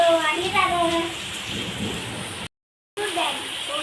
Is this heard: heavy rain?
yes